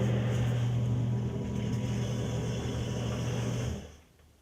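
A steady low pump motor hum drones close by in a bathroom for a few seconds after a toilet flush, then winds down and stops.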